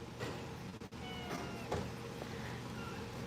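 A cat at an outdoor cat sanctuary meows a few times, short separate calls standing out over steady background noise, with no talking.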